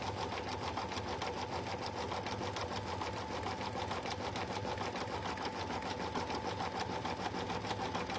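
An embroidery machine stitches an in-the-hoop puff foam bag, a quiet, rapid and perfectly steady needle chatter running without pause.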